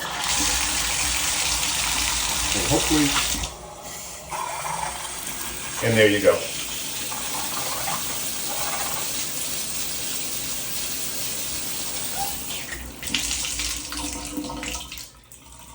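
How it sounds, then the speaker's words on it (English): Water runs steadily from a bathtub faucet, a loud continuous hiss and gush that carries on for nearly the whole stretch. It dips briefly around the fourth second, and a person speaks a few words over it. "Turn the water on."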